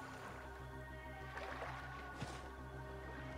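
Rowboat gliding over water in Assassin's Creed Origins, a soft steady splash and gurgle of paddling set beneath a continuous layer of game music, with no voices.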